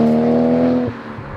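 A Toyota Cresta Tourer V JZX90 with its 1JZ engine holds a loud, steady high-revving drone up close, then drops off sharply as the throttle lifts.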